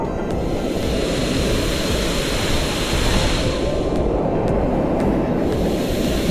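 Piduan Falls rushes in a constant, dense roar of falling water, loud and close, steady from start to finish with no speech.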